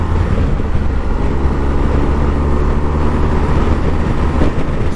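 A motorcycle accelerates briskly yet smoothly on an open road, its loud, steady engine drone mixing with heavy wind rush, continuous and close.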